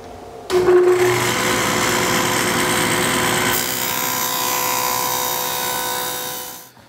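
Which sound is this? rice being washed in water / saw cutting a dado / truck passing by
saw cutting a dado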